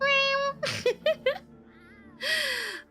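A human voice imitates a cat meowing, giving several playful high-pitched meows in a row, close and clear with short pauses between them.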